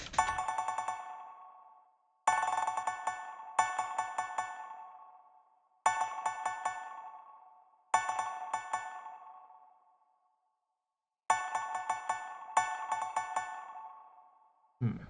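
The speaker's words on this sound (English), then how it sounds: "Delay is fancy music speak for just an echo effect." A plucked or bell-like synth note is repeated through the Echo Boy delay plugin while beats are made with Prohibition-era samples. The bright tones sound in separate rhythmic bursts, each trailing into decaying repeats, and there is no talking.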